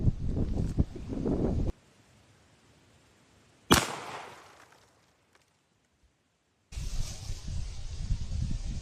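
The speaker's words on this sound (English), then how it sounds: "20 yards with a small game 20 gauge round out of the NEF single gauge shotgun, or single shot 20 gauge shotgun" A single sharp report from a New England Firearms single-shot 20 gauge shotgun firing a small game round at 20 yards outdoors, one loud crack with a short decaying tail between stretches of wind-like rumble.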